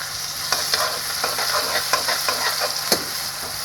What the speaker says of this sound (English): now we will adding tomato as well as green pepper into the kadai and take some time it for completely fry